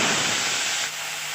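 Onion paste hits hot mustard oil in a kadai with a loud, broad hiss that drops to a softer steady sizzle after a moment, while jackfruit curry is being prepared.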